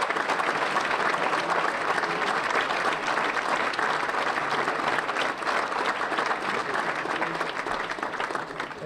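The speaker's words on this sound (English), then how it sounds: "So one more round of applause for the 11 inductees." A high school athletic hall of fame ceremony audience gives a sustained, full round of applause for the eleven inductees, a dense and steady roar of clapping that lasts nearly nine seconds and tapers slightly at the end.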